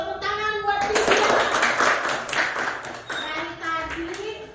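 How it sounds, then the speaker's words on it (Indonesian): Classroom applause from a group of pupils, clapping in a steady patter for several seconds with children's voices mixed in, moderately loud and close. "Tepuk tangan buat Vidya."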